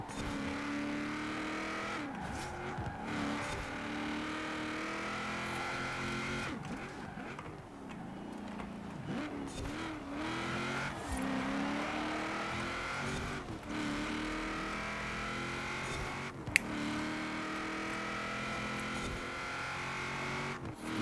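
Race cars in Forza Horizon 4 drive steadily throughout, engines droning and shifting pitch with occasional revs and brief tire noise, loud and continuous with no voices.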